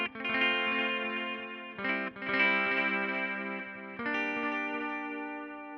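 A guitar runs through a delay preset on a FAS AX8 effects unit, playing sustained, lush chords with trailing repeats; three strummed chord changes ring out clearly with no talking.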